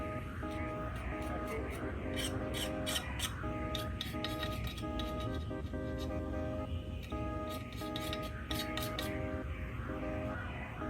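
A blade scrapes an old gasket off a motorcycle clutch cover in continuous, dense rasping strokes, with bursts of bright high scratching over a steady, loud mechanical hum throughout.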